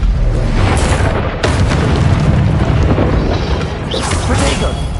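Confringo fire spell exploding in the Hogwarts Legacy video game, a loud sustained booming blast with a sharp burst near the start, over continuous rumbling combat noise.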